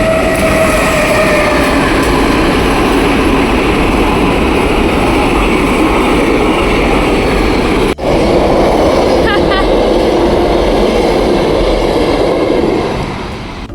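Trains rumble steadily and loudly through a railway station, a continuous rolling clatter of rail cars that dips briefly midway before carrying on, with faint voices in the background.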